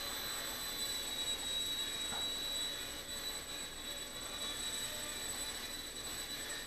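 Esky 150X mini RC helicopter hovering indoors, a steady high-pitched rotor whine and motor hum holding constant throughout, fairly quiet and alone with no talking.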